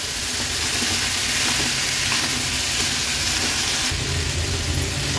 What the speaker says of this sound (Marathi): आता व्यवस्थित आपल्याला ही भाजी मिक्स करून घ्यायची आहे मसाल्यांमध्ये।